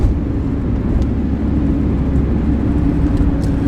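A manual-transmission car accelerates after a gear shift, its engine a steady loud low drone heard from inside, with no talk.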